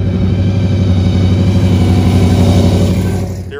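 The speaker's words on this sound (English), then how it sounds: "burning rubber" Drag car at the Woodburn Dragstrip holding a loud, close, steady roaring engine for several seconds while burning rubber, then the sound tapers off at the end, no voices over it.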